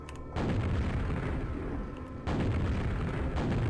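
Video-game cannon firing a rocket, two heavy booming blasts with a sustained rumbling roar after each, loud and close, no talking.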